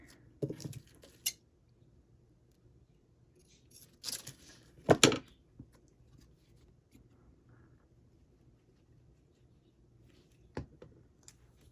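Scissors cut through card stock during Valentine card making, giving a few faint, sparse snips and scrapes spread across a quiet room.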